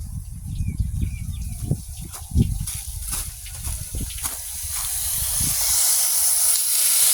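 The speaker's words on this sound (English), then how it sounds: "Yeah, I think all the air's come out of there." Air hisses out of a water line in a galvanized-metal pool house as the supply is turned on in spring: a loud, continuous close hiss with sputtering bursts early on, settling into a steady rushing spray.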